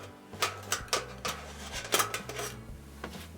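A metal beer keg lid is worked loose with a series of sharp metallic clanks and scraping knocks, close and fairly quiet, irregularly spaced over a few seconds.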